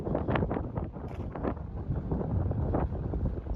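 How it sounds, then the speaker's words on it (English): Steady wind buffets the microphone on a hiking trail in North Kananaskis, a continuous low roar with gusty surges and no speech. "A little windy down here"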